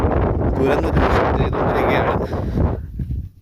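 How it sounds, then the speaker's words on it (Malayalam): Strong wind buffets the microphone on an exposed hilltop above a deep rock quarry, a loud continuous roar under a man's close speech. "ഈ കാറ്റിനിടയ്ക്ക് ഞാൻ പറയുന്ന എന്തെങ്കിലും നിങ്ങൾക്ക് കേൾക്കുന്നുണ്ടോ എന്ന് എനിക്കറിയില്ല"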